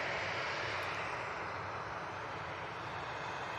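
A Ryanair jet climbs out and banks at Manchester, its engine noise a steady, even rumble throughout, moderately distant and with no talk.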